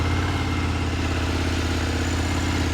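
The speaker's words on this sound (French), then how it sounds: "On va se démarrer le moteur là quand même, histoire de voir comment ça sonne" A KTM Super Duke 1390 motorcycle engine idles steadily and loudly up close, a continuous low rumbling throb with no change in pitch and no voices.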